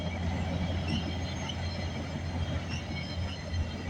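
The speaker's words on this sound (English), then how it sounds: "we got a CN train coming down the line" CN freight train rolling along the line in Burlington, Ontario, a steady loud rumble of wheels and cars with faint squeal, passing close by without talk.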